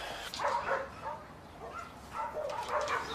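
A dog barks and yips in two short bursts from a yard in an Australian country-town police drama, with brief whimpering tones between the barks and no talk.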